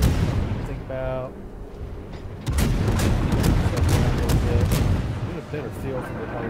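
Ship guns firing in the naval combat game World of Warships, with repeated booming blasts over a steady roar of game noise and music, plus a brief tonal chirp early on.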